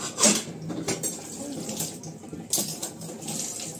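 In a home kitchen sink, dishes get washed with water running and pots and utensils clinking and scraping, close and continuous.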